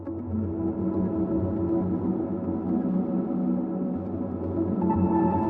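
A synth loop run through a Liminal multiband gate plugin gives a dense, steady wash of sound with a fluttering, chopped texture at a fairly even level, with no voices.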